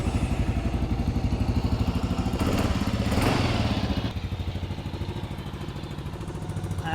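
Kawasaki KLR 650 Adventure motorcycle engine running, a close, loud single-cylinder idle with a steady thumping pulse, briefly revving and smoothing out mid-way before settling back to an even chug.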